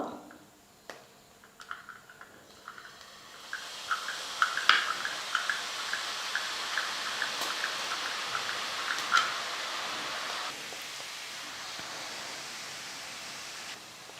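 Omapodi dough pressed into hot oil in a kadai starts to fry: a few sharp sputters at first, then a loud, steady bubbling sizzle with popping crackles that gradually settles.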